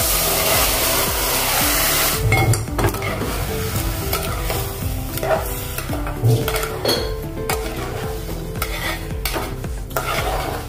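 Rice tipped into a hot, spiced mixture in a pan, then stirred with a utensil scraping and clattering against the metal under a steady sizzle, loud and close throughout, with no voices.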